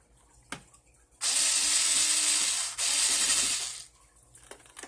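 Screws are driven back into a plastic Nerf Stampede ECS blaster with a power driver, giving two sustained whirring ratchet bursts close up, separated by a brief pause, with faint handling clicks before and after.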